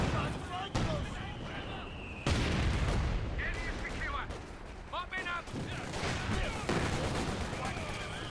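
Mortar blasts and gunfire from a Company of Heroes 2 match, repeated booms and shots under continuous casting commentary from two voices.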